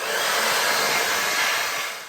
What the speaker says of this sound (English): blast it with not the hottest but a single level hot air, and just let it stay for maybe 15-20 minutes